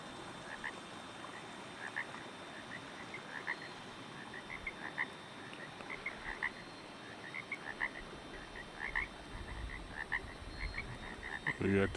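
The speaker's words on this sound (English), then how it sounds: "We got the tree frogs growing here." Tree frogs croak in a small swamp near a field, a dense chorus of repeated short calls running steadily throughout at a moderate distance, with a soft hum beneath and a brief louder rustle at the very end.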